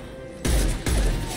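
Two sharp, loud gunshots from the video game Mass Effect 2 crack about half a second apart, each a heavy, booming burst over a low background.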